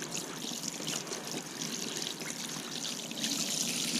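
Tap water trickles and splashes steadily over saltwater white perch fillets being rinsed, a close, soft, continuous running stream with no talk.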